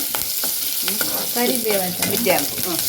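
Tempering of dried chillies and curry leaves sizzling in hot oil in a pan for a banana sweet, a close, steady crackling hiss with bursts of popping spatter and a few light stirring scrapes.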